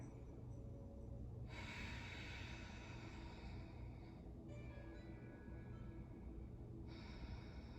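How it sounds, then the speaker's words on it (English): During a yoga pose, slow deep breaths come as three long airy inhales and exhales over a steady low background hum, soft and close, with no talking. "taking 3 big breaths here"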